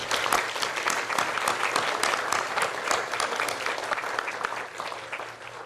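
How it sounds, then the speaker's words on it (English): Steady, loud applause from a large audience, sustained clapping that fills the whole stretch without pause. "give the memory of these men a large round of applause"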